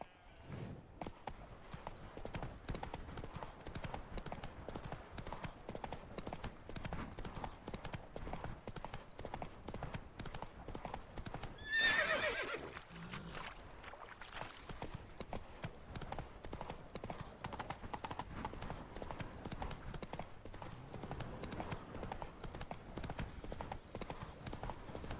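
A horse gallops in The Witcher game, its hooves beating a rapid, continuous clip-clop throughout a long stretch, with a brief louder rush partway through and faint game ambience beneath.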